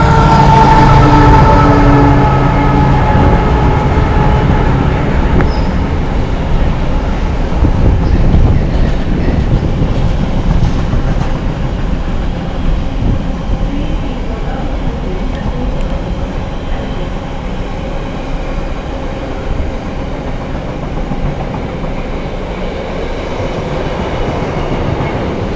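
A Class 70 freight locomotive with its wagons passes at Nuneaton, loud and close, with a horn at the start, then a steady rumble and clatter of wheels that slowly fades.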